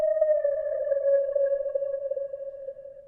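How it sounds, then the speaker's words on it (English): Ambient one-shot from the Producer Grind Cadence kit: a steady, hollow sustained tone with a few faint upper overtones, wavering slightly in level and holding for about three seconds, dark and sonar-like, with no talking. "The last sound that I used was this one-shot kit from the Producer Grind Cadence kit."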